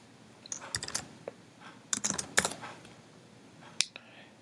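Computer keyboard typing while writing code, with quiet bursts of key clicks in short clusters separated by pauses, close and fairly soft.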